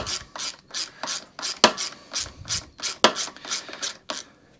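Close, crisp clicking bursts of a ratchet wrench working bolts loose on a lawn mower, about a dozen evenly spaced strokes in steady rhythm with no talking.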